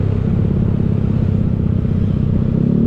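Steady motor rumble of a vehicle driving through traffic in Canggu, Bali, a continuous low engine drone with light clatter and no pauses.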